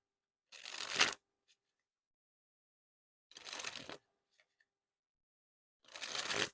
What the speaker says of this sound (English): the cards are just giving me kind of a hard time because they want to slide out of my hands while dribbling them